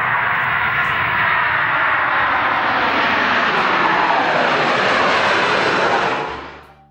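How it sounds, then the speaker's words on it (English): A loud airplane engine drone holds steady and close for several seconds, a broad roaring whine that then fades away quickly at the end, with no voices. "A for airplane."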